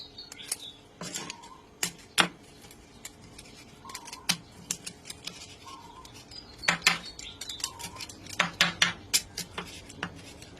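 A knife crunches through crispy pork belly in sharp, irregular bursts, with clicks against a board and quiet pauses between cuts.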